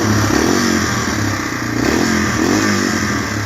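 A Yamaha TW200 motorcycle engine idles warm at close range, a loud steady putter with a regular rhythmic pulse and light mechanical vibration rattles over it.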